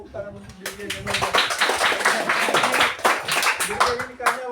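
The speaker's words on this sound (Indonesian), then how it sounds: "tepuk tangan untuk Dirjen yang nomor" Applause for an education official at an Indonesian teacher-training session, a crowd clapping in a quick dense patter that runs several seconds, with voices talking over it.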